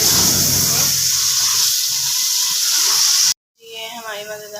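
Steady loud hiss and sizzle as spinach goes into a hot pot with potatoes for an aloo palak dish, running for about three seconds before cutting off abruptly into quieter kitchen noise.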